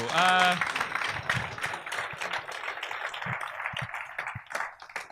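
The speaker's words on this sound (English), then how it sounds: "Round of applause for Molly, everybody" Applause rolls through a comedy club audience at Hot Water Comedy Club: a dense, moderately loud patter of many hands that holds steady and then thins toward the end, after a brief tonal burst at the start.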